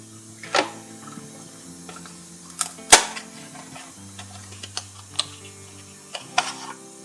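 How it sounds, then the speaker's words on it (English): Glass canning jars set into a pot of simmering water for sterilizing, several sharp clinks and knocks scattered irregularly over a low hum, close and distinct. "We're just gonna put these into some simmering water"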